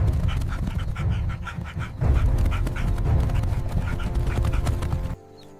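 African wild dogs on the savanna panting rapidly with scattered yips and calls, a steady, busy pack sound close by that cuts off near the end.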